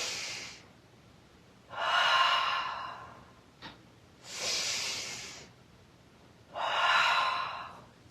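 Slow yoga breaths through the mouth, three long airy exhalation-like rushes of breath spaced a few seconds apart, close and fairly loud with quiet gaps and no speech.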